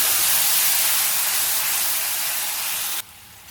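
Ground tomato hitting hot oil with crushed garlic and cumin for a Sindhi pakora curry, a loud steady sizzling hiss close up that holds for about three seconds, then drops away abruptly.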